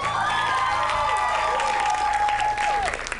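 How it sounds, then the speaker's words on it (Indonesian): Studio audience at a high school quiz competition breaking into loud applause with some cheering and whoops, while voices carry over the crowd noise. "Tepuk tangan dulu buat semuanya."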